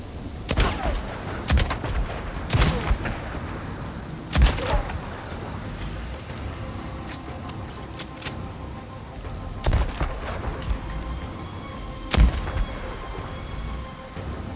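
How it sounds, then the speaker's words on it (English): Heavy .50 caliber rifle fire aimed at a Rager in the game Days Gone, with several loud, sharp reports spaced a second or two apart over a steady rain-like background. "I wonder how many 50 cal shots it takes to kill a Rager"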